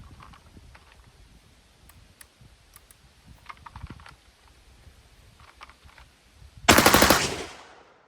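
Rapid automatic blast from a 12 gauge shotgun mounted on an M60 mount, fired outdoors across a field; faint scattered clicks lead to a loud, dense burst near the end that decays quickly.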